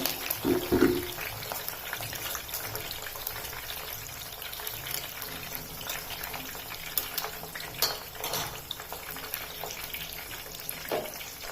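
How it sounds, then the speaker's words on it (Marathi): Coriander leaves frying in hot oil until crispy, cooked for a puffed-rice chivda: a steady, close, moderately loud sizzle and crackle that continues throughout, with occasional stirring clatter and no talk. "कोथंबीर पण अगदी क्रिस्पी होईपर्यंत तळून घ्यायची"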